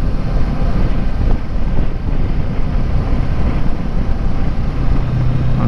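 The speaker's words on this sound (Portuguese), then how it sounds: "Aí já começa a pegar um pouco de vento." Loud, constant wind buffeting roars across the microphone while riding a Kawasaki Versys 650 ABS Tourer 2018 motorcycle at around 90 km/h on the open road, with the engine drone underneath and no talking.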